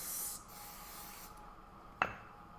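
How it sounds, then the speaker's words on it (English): Cooking spray hisses from a can into ramekins in a soft, fairly close burst lasting about a second, followed by quieter rustling and a single sharp tap against the dish. "I'm going to spray my ramekins so that way they don't"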